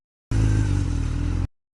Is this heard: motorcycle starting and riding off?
yes